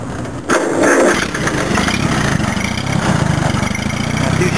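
An Allis-Chalmers C tractor, 67 years old, cranks and catches after a short pause, then settles into a steady, loud, chugging idle with a low rhythmic pulse.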